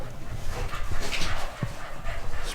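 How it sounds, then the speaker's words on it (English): Dogs on a walk by a lake in France, barking, whimpering and panting in short, loud, uneven bursts close by, with outdoor background noise throughout. "It's not that easy when you've got dogs constantly making loads of noise."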